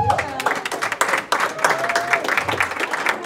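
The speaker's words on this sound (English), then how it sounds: "let's give a round of applause to all the ladies in the house" A comedy club audience on ladies' night claps and cheers, a dense burst of applause with whoops, close and lively, lasting a few seconds.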